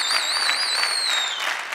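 Studio audience applause on a televised Turkish music and style competition show, a continuous dense burst of clapping with a sustained electronic tone over it, close and steady before tapering slightly.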